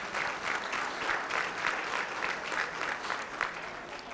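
Sustained applause from an audience at a mayor's men's breakfast, steady dense clapping without a break, fairly close and full throughout.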